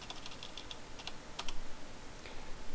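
Clicky keystrokes on a computer keyboard while a replication feature name is typed into a Windows server setup field, a quick run of taps followed by a few scattered presses, close and moderately loud over faint background hiss.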